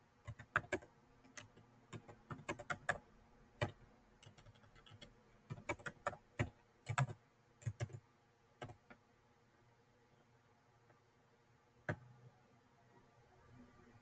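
Quick bursts of typing on a computer keyboard, clattering keystrokes close by, thinning to a few scattered taps and then quiet.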